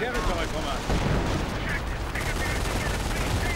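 Rifle and light machine gun fire crackles in a World War II real-time strategy game battle, dense overlapping bursts and shots under a continuous layer of commentary voice.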